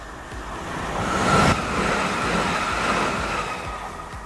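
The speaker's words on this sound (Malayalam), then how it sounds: "നമ്മൾ എയർപോർട്ടിൽ നിന്ന് ഇറങ്ങുമ്പോൾ തന്നെ നമുക്ക് ഈ പച്ച ട്രെയിൻ കാണാം." A green airport shuttle train to the rental car area on Maui passes with a steady, loud rumble, a brief tonal whine rising near the middle before the noise eases slightly.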